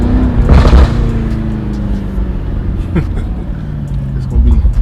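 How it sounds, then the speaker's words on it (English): A BMW F90 M5 fitted with an MST intake idles with a deep engine rumble and is revved in short bursts, heard from inside the car with a loud, close, throaty tone. "So what I'm gonna do is try to give it some revs,"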